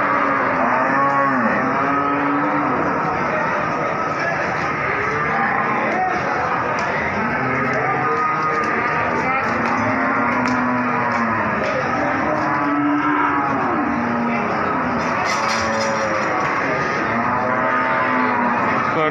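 Pegon cattle low and bellow over and over at the Wirosari cattle market in Grobogan, with many overlapping moos, some near and some farther off, filling a steady, noisy market din.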